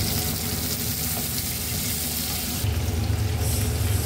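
Tomato sizzling in hot oil along with onion and curry leaves, a steady close frying hiss that swells louder partway through as the tomato hits the pan.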